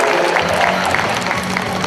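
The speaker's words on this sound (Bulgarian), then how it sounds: "Аплодисменти" Applause at a karate tournament memorial event as referees and officials are introduced in a hall, a steady, dense patter of crowd clapping with a low hum underneath.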